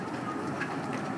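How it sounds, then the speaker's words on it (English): South Africa's Blue Train rolling along its rails, a steady rumbling wheel-and-track noise heard from inside the carriage, continuous and moderately loud, cutting off abruptly at the end. "Okay, our train journey has come to an end."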